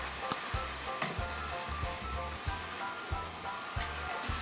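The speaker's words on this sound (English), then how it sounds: "Next, add your beef stock and bring to a boil." A sauce of beef stock and truffles sizzles and bubbles steadily in a pan, a close, continuous frying hiss with small rhythmic pops and clinks.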